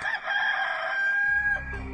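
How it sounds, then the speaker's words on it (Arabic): A rooster crows once in a long, drawn-out cock-a-doodle-doo, loud and clear with no other sounds around it. "وفي الحال صاح الديك"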